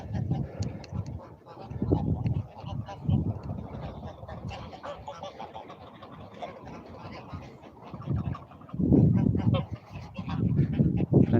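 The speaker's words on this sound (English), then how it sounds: "Plenty of geese walking around here." Geese walking around a pond honk and cackle in loud bursts, near and repeated, with quieter stretches between clusters of calls and faint voices in the background.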